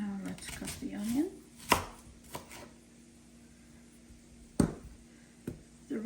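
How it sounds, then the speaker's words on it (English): An onion cut with a knife on a cutting board for a Polish holiday hunter's stew: a few sharp, separate chops spaced seconds apart, with quiet rustling in between. "And now let's cut the onion."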